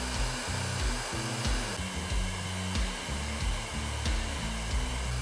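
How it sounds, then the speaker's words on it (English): A hair dryer blows steadily at close range, warming a dented plastic bumper cover for repair, a continuous whooshing hum with a low motor drone and slight wavering airflow throughout. "I'm not putting the blow dryer on the edge,"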